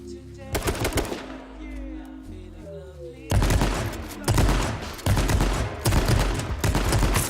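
Shotgun gunfire in the battle royale game H1Z1: a first heavy blast followed by tonal game sounds, then a string of loud, punchy shots fired at rough intervals, each with a crashing decay.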